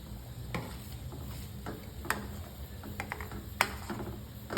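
Jaggery being stirred into a tamarind and date chutney in a pan over medium flame, soft scraping and light clicking spoon strokes at an irregular pace, quiet and close.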